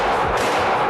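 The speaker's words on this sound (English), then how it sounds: "Heck yeah, let's shoot." A single loud, broadband gunshot blast at a shooting range, filling the short moment with a sharp report and ringing tail.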